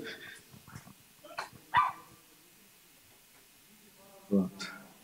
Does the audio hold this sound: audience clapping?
no